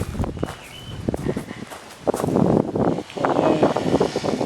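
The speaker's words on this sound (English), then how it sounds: "It's still really windy as well." Steady wind gusts rush and buffet outdoors in a garden, with rustling and broadband noise rising and falling throughout.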